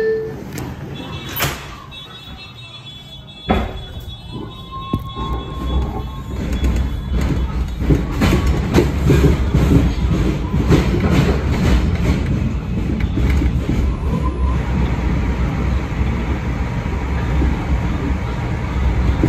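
A New York City R142 subway train on the 4 line rumbles along the tracks, with a door closing early on and then a steady loud rolling roar building and continuing.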